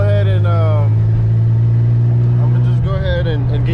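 A tuned Infiniti G35 fitted with a Tomei exhaust, its engine droning steadily with pitch sweeps as it revs, captured close to the tailpipe, loud and continuous.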